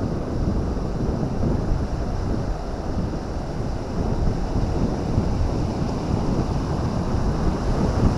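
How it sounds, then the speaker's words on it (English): Steady wind roars across a beach at Sutton on Sea during sea fishing, with surf rumbling underneath, loud and continuous throughout with no talk. "It's unfortunate with the wind, but it isn't too bad."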